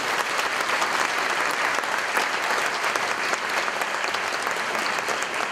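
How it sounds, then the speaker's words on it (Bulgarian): A crowd applauds steadily at a film festival opening ceremony, the dense clapping holding at an even level from start to finish. "Аплодисменти!"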